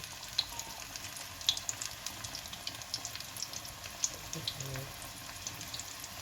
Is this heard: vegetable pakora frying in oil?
yes